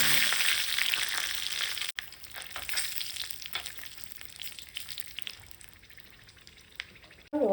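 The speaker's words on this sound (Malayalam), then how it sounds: "ജീരകവും കടുകും പൊട്ടിയതിന് ശേഷം ഇതിലേക്ക് ഞാൻ വറ്റൽമുളക് ഇട്ട് കൊടുക്കുന്നുണ്ട്." Dried red chillies frying in hot coconut oil as a tempering for dal curry, heard nearby as a loud, steady sizzle that slowly eases, with scattered small crackles.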